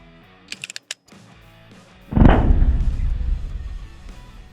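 Supersonic 9mm rounds fired from a Staccato XC handgun: a few faint clicks, then one loud, sharp report with a long decaying boom.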